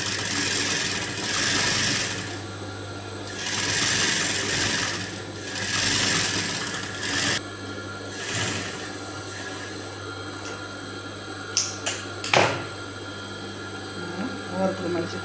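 A sewing machine stitches folded piping onto a blouse in bursts of steady whirring, with pauses between runs. Near the end come a few sharp handling clicks and knocks.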